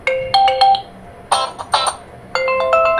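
A ringtone previews on a Tecno Camon 20 Pro 5G phone, playing as three loud, bright melodic bursts of electronic chime notes with short gaps between them and no talking.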